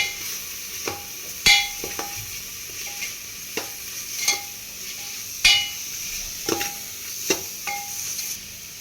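Roasted masala and turmeric being stirred into a mutton paya gravy: steady low sizzling punctuated by repeated sharp clinks and scrapes of a spoon against the pot, with no talking.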